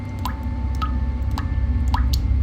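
After the shower water stops, drops fall one at a time, four distinct plinks spaced about half a second apart over a low steady background hum.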